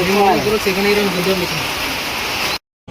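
Steady rain hisses throughout, with a person speaking briefly over it at the start, then the sound cuts off abruptly near the end.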